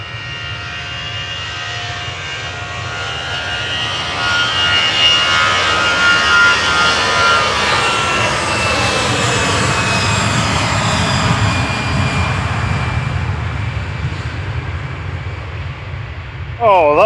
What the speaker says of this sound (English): that must have been a full power Lufthansa there. That was mega loud.